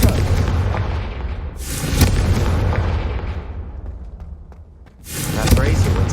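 Booming blasts from the Confringo fire spell in the video game Hogwarts Legacy, two loud explosive bursts with rumbling decay, heard in gameplay with voices around them.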